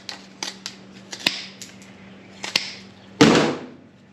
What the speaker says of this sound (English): See how it cuts with a pair of scissors here.